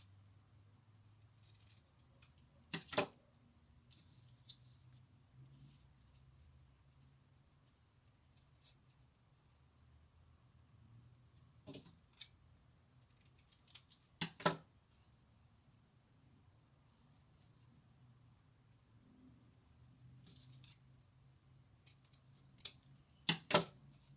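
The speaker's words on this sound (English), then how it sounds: "I've finished cutting all my edges like this" Scissors snip the ends of a ribbon for a spiked ribbon ponytail holder, giving a few sharp, close cuts grouped in short pairs with quiet gaps between them.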